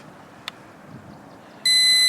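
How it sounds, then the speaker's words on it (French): A single bright electronic confirmation beep from a WLtoys V636 toy drone, held for about half a second against quiet background hiss, with a faint click just before. "Le bip nous permet de savoir qu'on a toujours le mode CF enclenché"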